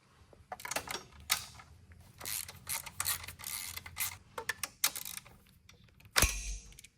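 Bolts come off a Suzuki DRZ motorcycle with a 12 mm wrench, giving irregular bursts of metallic ratcheting clicks and creaks up close, pausing and resuming, with one sharper clunk near the end and no talk.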